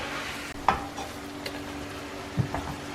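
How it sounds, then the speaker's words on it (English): Minced beef and bacon browning in a pan, giving a steady low sizzle with a few sharp spatula clicks and scrapes, close and fairly quiet, with no voices. "that's all the minced beef browned off and the bacon browned off"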